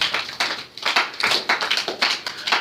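A church congregation claps in a quick, uneven burst of many hands, loud and close, with no talking over it.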